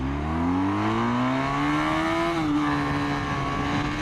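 A barn-find Honda Nighthawk motorcycle accelerating on its first ride, a loud close engine whose pitch climbs steadily, briefly dips at a gear change, then holds a strong droning note.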